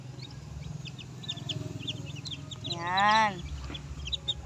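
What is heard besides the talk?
newly hatched chicks peeping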